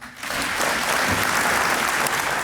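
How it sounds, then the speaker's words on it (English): Dense, sustained applause from a banquet audience honoring seniors at a 2023 academic awards banquet, rising quickly and then holding steady and full for the rest. "Let's give all our seniors and their families a big round of applause one more time."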